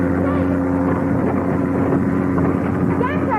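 A boat pulls away with a steady, close motor drone and wind buffeting throughout, while voices talk faintly over it.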